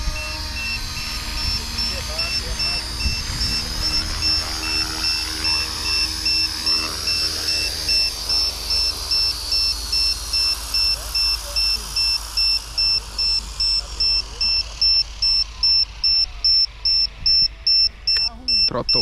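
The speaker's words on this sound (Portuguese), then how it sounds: "só para desligar rápido esse alarme" A drone's steady high-pitched low-battery alarm whines throughout, turning into rapid pulsing beeps toward the end, with a voice talking and a motor whirring underneath.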